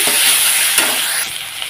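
Ginger, cumin and garlic pastes sauté loudly in a hot pan for a Bengali lentil-and-egg dish, a bright continuous sizzle with a brief stir scrape midway and the hiss easing slightly toward the end.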